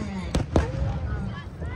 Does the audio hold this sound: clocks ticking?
no